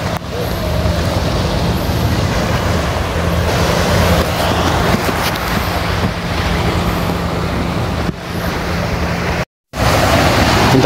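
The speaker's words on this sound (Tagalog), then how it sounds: "Nakakatakot yung alon." Loud, continuous roar of surf and crashing waves fills the scene, mixed with wind buffeting, briefly cutting out near the end.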